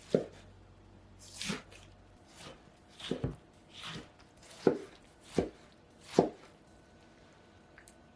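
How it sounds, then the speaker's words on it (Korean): A knife chops tomatoes on a cutting board in about eight separate, evenly spaced thuds, close and fairly quiet. "토마토도 작은 크기로 썰어줄 거예요"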